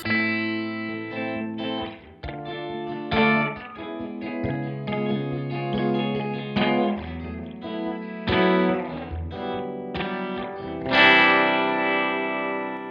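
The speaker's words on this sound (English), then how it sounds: "It's a pretty short reverb here." An electric guitar played through the Arturia FX Collection effects with a short reverb rings out in strummed chords and picked notes, sustained and slightly processed, with no talking.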